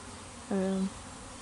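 A honey bee at a hive in an apiary gives a short, close buzz lasting under half a second against faint background noise.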